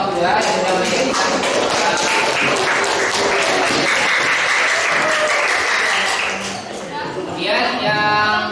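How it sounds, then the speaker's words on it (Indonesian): Classroom students applauding a presenting group, a dense burst of hand clapping that fills the room, tapering off near the end as a voice resumes. "Oke, tepuk tangan semuanya buat kelompok 2 yang sudah menyajikan."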